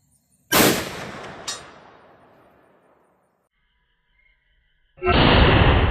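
A sharp, loud Marlin rifle shot cracks once and rings out in a long fading echo across an open range, followed by a second, fainter report and then the sudden onset of wind or handling noise.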